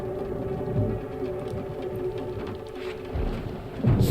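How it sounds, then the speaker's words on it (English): Rainstorm in the Death Stranding 2 video game, a steady wash of falling rain with low thunder rumbles swelling near the middle and a louder roll at the end, no talk. "Storm!"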